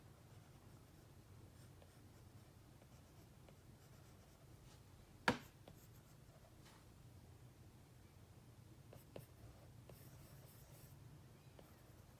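Pencil sketching a rough tiger head tattoo design on paper, a soft continuous scratchy rustle of graphite strokes throughout, close and quiet, with one sharp tap midway.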